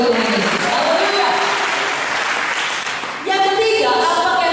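A church congregation breaks into loud, sustained applause during a service, a dense, continuous clapping that dips briefly and then swells again.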